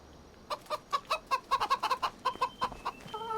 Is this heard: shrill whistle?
no